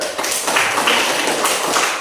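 Schoolchildren in a classroom clap together, a short burst of quick, overlapping claps close by, bright and busy for a couple of seconds.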